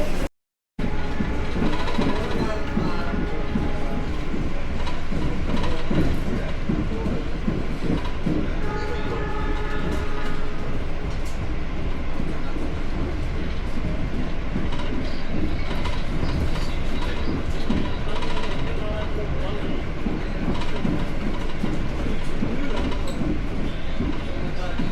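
The Argo Semeru passenger train runs on its rails, heard from inside a carriage as a continuous loud rumble with rhythmic clickety-clack and faint wheel squeal, steady throughout.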